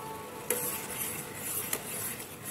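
Sugar syrup for rasgulla is stirred in a pot, with a steady bubbling sizzle and two light clinks of a spoon against the metal, heard close with no talk.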